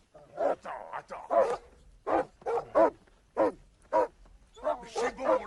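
Dogs bark and snarl repeatedly in a film fight scene, rapid loud bursts in an irregular rhythm at close range.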